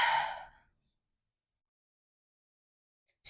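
One slow, breathy exhale during a yoga shoulder stretch fades out within half a second, followed by near silence and the start of another breath at the very end.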